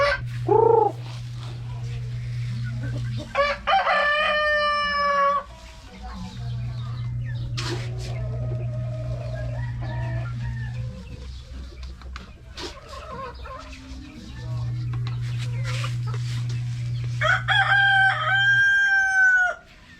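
Rhode Island Red roosters crow several times, loud and close, with hens clucking between the calls and a steady low hum running underneath.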